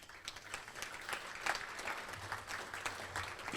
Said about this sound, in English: Let's please give these members a round of applause as well.